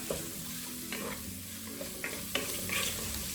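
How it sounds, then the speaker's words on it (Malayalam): Chopped tomatoes sauté with onions in a pan for a drumstick sambar, giving a low steady sizzle with a few soft stirring scrapes and taps spread across the stretch, no voices. "ഒരു 2 തക്കാളി ചെറുതാക്കി കട്ട് ചെയ്തതാണ്, അത് ചേർത്തിട്ട് വഴറ്റുക"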